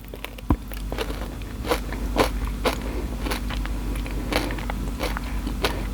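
Crunchy Dubai chocolate filled with pistachio paste is bitten and chewed up close, giving a run of sharp, irregular crackles and crunches over a low steady background hum.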